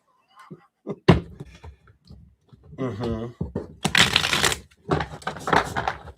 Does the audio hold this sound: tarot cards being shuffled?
yes